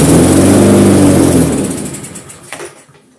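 A salvaged lawn mower engine fires on carburetor cleaner, running loud and rough for about a second and a half before sputtering down and stalling into silence.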